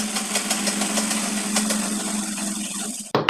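A sewing machine stitching a lined kurta gives off a steady, close mechanical whir with a fast, even stitching pulse. It runs alone with no voices, then stops abruptly just before the end.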